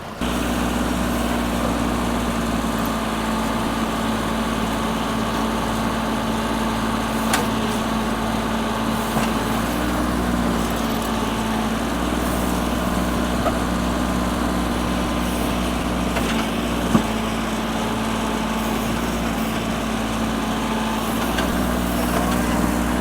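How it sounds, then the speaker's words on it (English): A steady tractor engine idles and rumbles continuously with a deep low drone, close by, running without pause throughout. "we hook the two tractors together"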